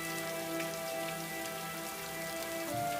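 Heavy rain pouring steadily on surfaces, a dense even hiss of drops that stays constant throughout, with no voices.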